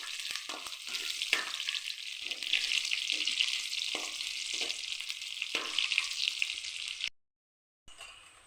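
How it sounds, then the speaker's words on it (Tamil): Brinjal pieces sauté in oil in a pan for a Tamil kara kulambu, a steady close hiss and sizzle with occasional stirring scrapes, breaking off briefly near the end before resuming. "கத்திரிக்காய் கொஞ்சம் எண்ணெயிலே வதக்கிடணும்."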